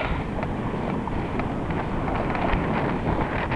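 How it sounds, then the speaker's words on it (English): A light southeasterly wind buffets an outdoor microphone, making a steady low rumble with soft irregular gusts throughout and no voices. "southeasterly wind. Not a big wind."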